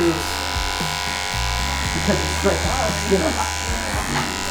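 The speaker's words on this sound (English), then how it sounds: "I'm going to use my detachable blade because I feel like they give a cleaner, more precise cut." Electric hair clippers with a detachable blade buzz steadily through hair during a mullet cut by a barber, a continuous close hum under ongoing talk.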